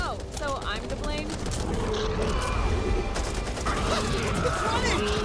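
Gunfire in the co-op zombie shooter Back 4 Blood on PS5: rapid, loud bursts of shots mixed with mechanical clatter and shouted voices throughout.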